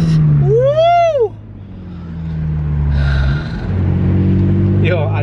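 A Lexus IS 350 F Sport fitted with a new aftermarket exhaust accelerates hard, its engine note rising in loud swooping revs and then settling into a steady drone. Voices shout excitedly over the engine.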